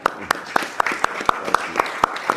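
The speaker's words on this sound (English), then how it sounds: "Marty, let's give Marty a round of applause, will you?" Applause on a Zoom call comes through as a steady, evenly spaced run of single claps, fairly close and moderately loud, about four per second.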